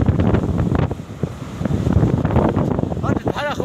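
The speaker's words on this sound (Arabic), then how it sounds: "كما كتشوفوا الجو البحر كنقول عليه الهواء شويه عيان" Strong wind buffets the microphone on a beach during surfcasting, with waves rolling and breaking underneath in a loud continuous roar and someone talking over it throughout.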